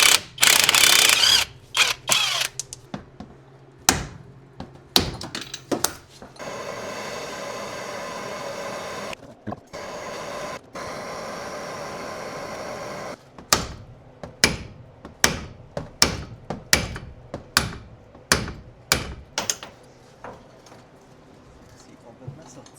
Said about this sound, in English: you simply have to get yourself an 18 millimeter and loosen that bolt up.